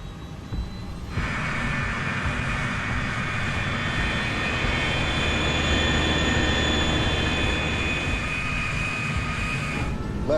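Airliner jet engines at taxi toward the runway: a steady, loud broadband roar with a whining tonal hum that swells after the first second and holds constant, with no talk over it.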